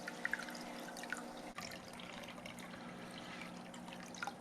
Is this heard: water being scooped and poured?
yes